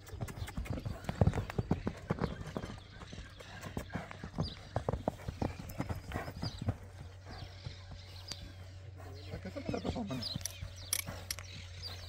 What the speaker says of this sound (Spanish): Qué lindo anda este caballo.